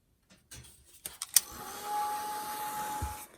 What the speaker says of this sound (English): I want to hit these with the dryer really quick